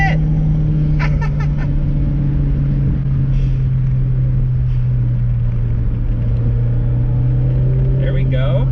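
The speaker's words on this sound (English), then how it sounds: "It wants you to rev all the way out." A Mazda MX-5 engine revs hard and drones steadily while the car is driven on the road. The loud, continuous engine note fills the whole stretch, and voices talk over it.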